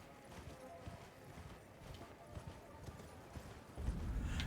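Horse hooves clip-clop steadily on the ground while riding in Elden Ring, a soft, even rhythm of footfalls with a brief heavier thump near the end.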